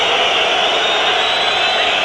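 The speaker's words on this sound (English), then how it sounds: "Just listen to the Belgian crowd" A dense, loud roar of a Belgian football crowd in a stadium during a European cup match, a continuous wash of massed voices and noise with no break.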